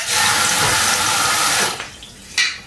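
Tap water gushing loudly into a pot to be heated for bathing kittens, a steady rushing pour that stops abruptly, followed by a short clank of the pot.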